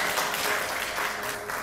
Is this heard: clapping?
yes